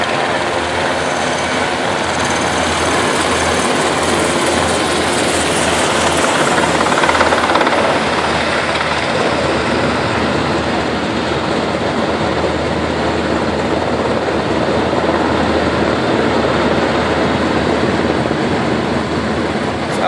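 Black Hawk military helicopters fly low over downtown St. Paul, their rotors and turbines making a loud, steady, broadband roar that stays strong throughout, swelling slightly as one passes close overhead.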